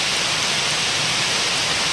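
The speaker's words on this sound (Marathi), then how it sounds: "पाऊस चालू झाला आहे, रानात फिरायची खरी मजा घालवणार आहे पाऊस." Rain begins falling over a Konkan forest, spreading as a steady, dense hiss on the tree canopy overhead, fairly loud and continuous, with no voices.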